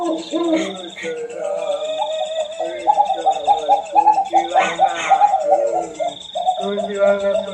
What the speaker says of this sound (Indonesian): Ringtone burung hantu.